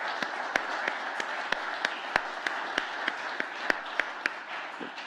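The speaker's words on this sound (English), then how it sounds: "please join me in a round of applause for our panelists there today." A conference audience applauds its panelists at a climate and energy event. It is sparse and fairly faint, with distinct individual claps spaced through a hushed room instead of a full ovation.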